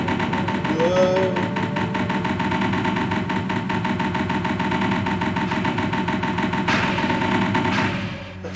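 A minecart ride in the King's Field 2 PlayStation game gives a continuous, loud mechanical rumble with a fast rattling pulse, steady throughout before a brief clatter and a fade at the end.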